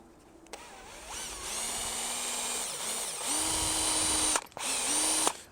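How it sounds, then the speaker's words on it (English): A handheld power drill with a standard high-speed steel bit bores into steel, whining at a steady high pitch that rises and falls in stretches, with brief pauses between the runs. "Just a standard steel drill bit."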